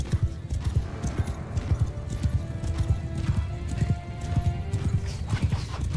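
Cavalry horses galloping in a battle in Mount & Blade 2: Bannerlord, rapid overlapping hoofbeats pounding steadily and loud, with faint whinnies and a high tone drifting over them.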